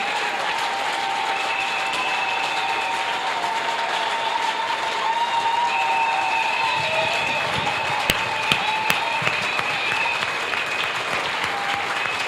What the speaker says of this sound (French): J'aimerais que nous applaudissions à Dieu pour notre maman.